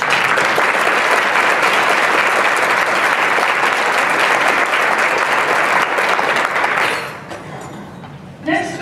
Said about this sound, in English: Please join me in giving this group a special round of applause